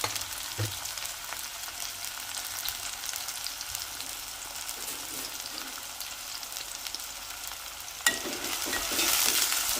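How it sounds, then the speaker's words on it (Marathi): Chopped onion sautéing in hot oil for a methi dish: a constant, fairly loud frying sizzle with light stirring, a sharp clink near the end and the sizzle swelling in the last seconds, no voices. "मी कांदा घातलेला आहे आणि कांदा आपण परतून घेऊया"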